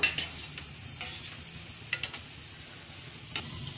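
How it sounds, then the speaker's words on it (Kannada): Gulab jamun balls deep frying in hot oil give a steady faint sizzle, with a few sharp clicks of a spoon stirring them through the pan. "ಎಲ್ಲೂ ಕ್ರ್ಯಾಕ್ಸ್ ಇಲ್ಲ ನೀಟಾಗಿ ಡೀಪ್ ಫ್ರೈ ಆಗಿದೆ"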